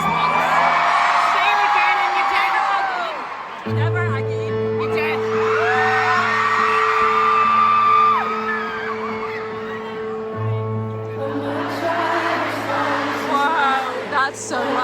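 A huge crowd at a concert in Manchester sings along loudly, with whoops and yells over a pounding band and sustained bass notes, near and dense.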